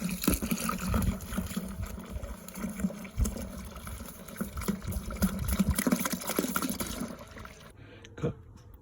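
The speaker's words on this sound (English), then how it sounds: "Got 25 litres of water into the fermenter and it just started sucking" Water pouring into a fermenter while brewing a black IPA, a steady sloshing, gurgling fill with irregular splashes close by, tapering off near the end with a faint last trickle.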